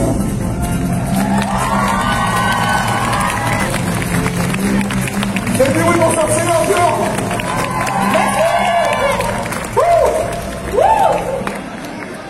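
Lively crowd of children shouting and cheering at a busy event, loud, continuous whoops and cries with someone talking over them.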